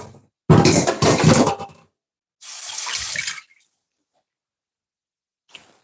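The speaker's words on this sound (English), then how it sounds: "Just gonna rinse this off a little." A kitchen tap runs as food is rinsed under it for batch cooking at home: two loud bursts of rushing water split by a brief pause, then a shorter gush, and a faint final splash after silence.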